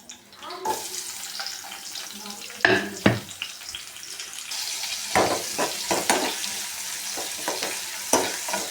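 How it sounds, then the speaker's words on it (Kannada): Chopped onions and green chillies frying in a pan give a steady close sizzle, broken by repeated scraping stirs of a spatula against the metal. "ಈರುಳ್ಳಿ ಸ್ವಲ್ಪ ಗೋಲ್ಡನ್ ಕಲರ್ ಬರೋವರೆಗೂ ಫ್ರೈ ಮಾಡ್ಕೊಳ್ಳಿ"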